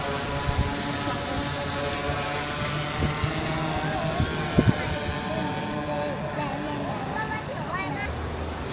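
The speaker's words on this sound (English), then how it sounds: "So many drone helicopters coming in." Delivery drones fly overhead above a city walk in the Nanshan city center, giving a steady whirring rotor drone that fills the background while a person talks over it.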